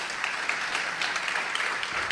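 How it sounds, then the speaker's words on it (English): Applause from an audience at a Salish Sea protection gathering, a short steady wash of clapping that stays moderately loud, with no talk over it. "Please give yourself a round of applause."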